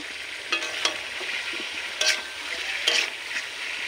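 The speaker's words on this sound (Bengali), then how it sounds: "এরপর কড়াইতে তেলের মধ্যে আমি আমটা ঢেলে দেব। এরপর আমি এটাকে নাড়তে থাকবো" Steady sizzle of raw mango pieces frying in hot oil in a kadai, with a few brief scraping stirs of a spoon through the pan at intervals.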